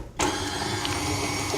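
An electric mixer whirs steadily as it beats an 8-ounce block of cream cheese, switching on after a brief quiet start and running continuously with a close, even motor drone.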